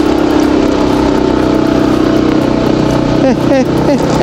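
Motorcycle engine labors at a steady strained drone while stuck on slippery, muddy ground, close and loud, with a few short rising revs near the end.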